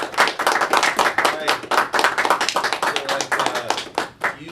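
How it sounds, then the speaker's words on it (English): Podcast guests and a small audience clapping at close range in a university studio setting, loud, uneven individual handclaps with a few hands audible, trailing off near the end. "let's give these guys some applause"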